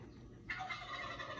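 A person imitates a turkey gobble with a brief rough warbling burst, faint and close, following low background noise.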